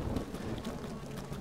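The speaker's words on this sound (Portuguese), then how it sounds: "Tá chovendo, o cabelinho do Tequila tá molhado." Steady rain falling in a suburban area of the video game Stranglehold, heard as a soft, even patter and hiss that stays low and constant with no distinct drops standing out.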